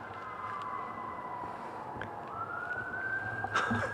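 A distant siren wails steadily, its pitch sliding down and then climbing again, over a constant low background rumble.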